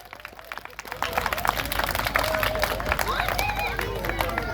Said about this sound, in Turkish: Kocaman bir alkış gelsin sahnedekilere